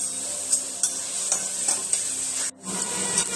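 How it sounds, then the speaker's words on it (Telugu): Chicken liver frying in a pan with ginger-garlic paste gives a steady close sizzle, with soft scrapes and knocks of a spoon stirring every so often and a brief dip in the noise near the end. "ఇలా ఒక టూ త్రీ మినిట్స్ అయితే మంచి ఫ్రై అవుతుంది దగ్గరే ఉండి కలుపుతుంది"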